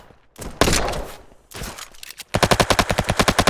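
Rapid gunfire from a video game shooter: two sustained bursts followed by a fast, loud rhythmic volley of automatic shots, close and unaccompanied by talk.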